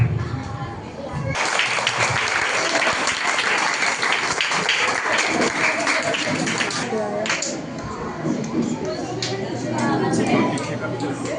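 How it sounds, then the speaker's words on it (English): Audience applause at an Independence Day event as fighters, soldiers and national icons take the stage, a steady broad wash of clapping from a crowd that starts abruptly and continues throughout. "Let's encourage them with a round of applause."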